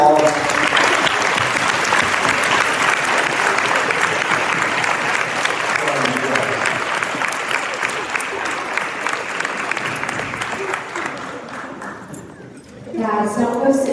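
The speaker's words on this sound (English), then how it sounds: "So give them all another round of applause." A high school football banquet audience gives the players a long round of applause in a gym, loud dense clapping that fades toward the end as a voice begins speaking.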